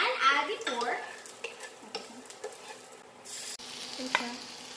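Pork sizzles in a hot pan while being stirred for pancit, with scraping and clinking of a utensil against the pan and a steady frying crackle in a quiet kitchen.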